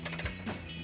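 A few quick ratcheting clicks from an 18mm socket ratchet loosening the rear bumper nuts on a 2019-2024 Chevrolet Silverado 1500, short and faint in a quiet garage.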